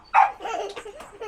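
A dog gives one sharp, close bark followed by a few softer whimpering yips, brief and fairly quiet, with no talking.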